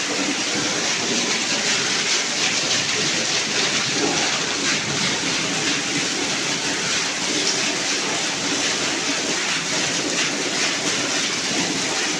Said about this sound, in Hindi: सावन की तूफानी बारिश।